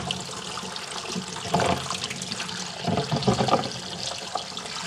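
Fish being washed under a running tap, a steady close splash of flowing water with fuller gushes and sloshing as the fish is handled, no talking.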